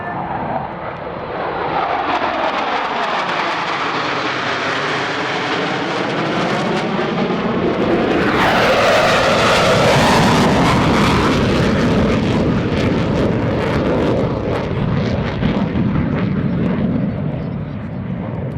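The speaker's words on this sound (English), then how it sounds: "From the left, the fleet flyby." A fleet of naval aircraft sweeps past at a Navy airshow at NAS Oceana, a loud sustained jet roar that builds and shifts in pitch as the formation passes overhead, with an announcer speaking underneath.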